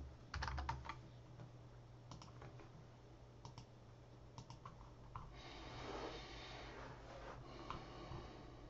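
Sparse, quiet clicks of keys on a computer keyboard as a password is typed, in short irregular bursts over a faint background hum.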